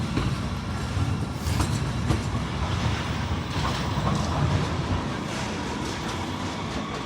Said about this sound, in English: Okay, so now watch the meeting of the J trains.